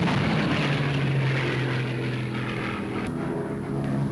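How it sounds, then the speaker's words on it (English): A radio-controlled pilotless plane launched by a steam catapult from an aircraft carrier, its propeller engine droning loud and steady throughout. "Here goes a radio-controlled pilotless plane."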